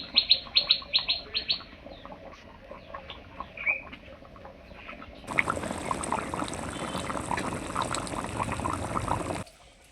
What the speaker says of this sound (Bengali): ঢাকা ছাড়াই পাঁচ মিনিটের মতো সময় নিয়ে ফুটিয়ে নেবো